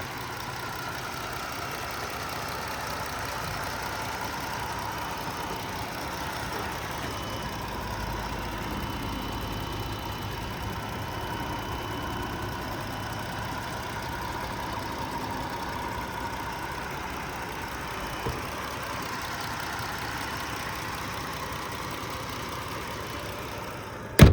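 A 2017 Chrysler Pacifica Limited with its 3.6-liter engine idles smoothly and steadily, a low even hum at moderate distance with no voices, ending in a short sharp click.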